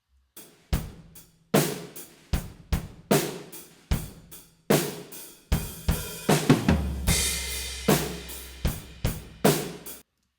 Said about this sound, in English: So now what you're hearing is the tom 2 sample, tom 1 sample, snare sample, kick sample